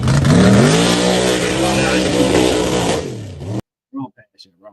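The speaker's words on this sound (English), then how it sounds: "Watch this truck come from the bottom." A truck at a mud hop revs its engine hard while climbing out of a mud pit, a loud sustained roar that rises and falls before cutting off, followed by a few brief, faint sounds.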